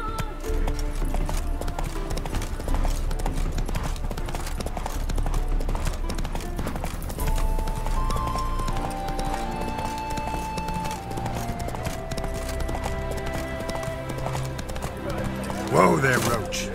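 Roach, the horse in The Witcher 3, galloping with a steady, rapid clip-clop of hooves under game music, a neigh near the end, and someone speaking over it.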